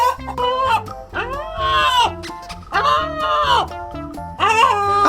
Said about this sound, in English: Sometimes they make sound like a chicken.